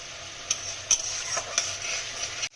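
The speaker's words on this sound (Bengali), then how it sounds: "মশলাটাকে ভালোভাবে কষিয়ে নেব আমাদের মশলাটা কষা হচ্ছে" Spice paste with cumin powder sautéing in oil for a rohu fish and potato curry, a steady soft sizzle with a few light scraping stirs, close and fairly quiet.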